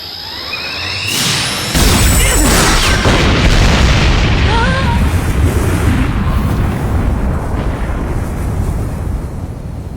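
A large gun in an anime goes off with one heavy cannon-like boom that gives way to a long, loud roaring rumble that fills the rest of the moment.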